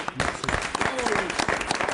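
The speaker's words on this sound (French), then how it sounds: "Eh ben voilà, on l'applaudit." Audience applause at an All Star 2012 event, a burst of dense, close clapping that runs through the whole moment, with a voice talking over it.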